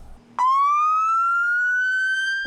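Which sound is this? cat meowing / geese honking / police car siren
police car siren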